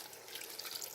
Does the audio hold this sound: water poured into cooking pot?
yes